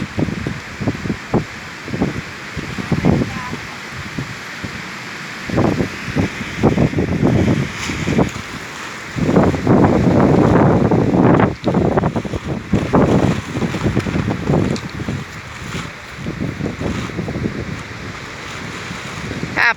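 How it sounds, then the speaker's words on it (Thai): Strong wind gusts outdoors in the afternoon, roaring and buffeting a nearby microphone in loud, uneven bursts that rise and fall continuously with no talk. "ลมพัดแรงมากเจ้าค่ะ"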